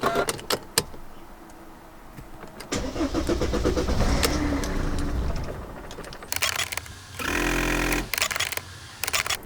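A Mercedes CLK 270 engine cranks without catching after a fuel filter change: clicks and key noises, then several bursts of starter whirring, the last one longest and loudest, heard up close.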